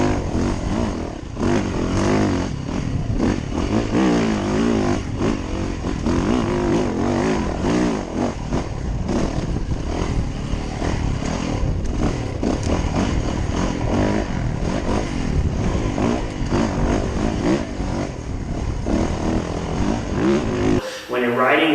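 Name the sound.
Yamaha YZ450FX off-road motorcycle riding, onboard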